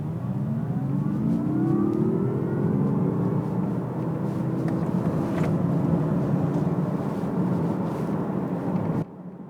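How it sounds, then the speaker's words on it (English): Inside the cabin of a 2021 Mazda MX-30 Skyactiv-E electric car, an engineered acceleration sound whooshes steadily with rising, swooping tones over a low rumbling bed, continuous and fairly loud for about nine seconds. "whenever you accelerate, you also hear the sound that is pumped into the cabin"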